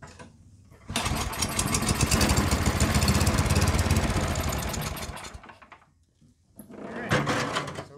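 A Yardworks snow blower with many issues runs up loud and close while its transmission is tested, a rough engine roar that swells for several seconds, fades nearly to nothing, then picks up again near the end.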